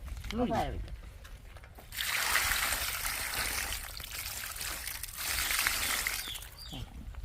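Water poured over boiled clams to rinse them, coming in two long rushing, splashing pours separated by a pause, with brief voices before and near the end.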